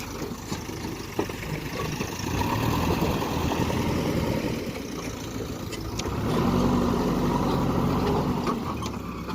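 A tractor engine runs steadily nearby as its trolley is loaded with soil by a JCB, a continuous mid-pitched drone that swells slightly in the second half.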